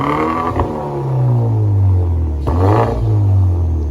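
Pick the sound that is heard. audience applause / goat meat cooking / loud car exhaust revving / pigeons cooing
loud car exhaust revving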